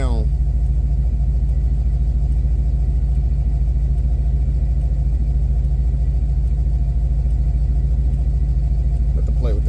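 A Box Chevy engine idles with a steady, loud low rumble that holds evenly throughout, close to the listener, with a brief change in pitch near the start and end.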